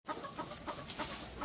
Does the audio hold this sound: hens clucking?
yes